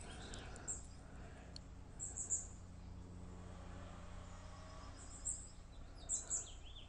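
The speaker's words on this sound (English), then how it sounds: "We've got lots of birds singing in the morning" Birds sing on a cloudy morning, giving faint, high chirps in scattered short bursts over a low, quiet outdoor hum.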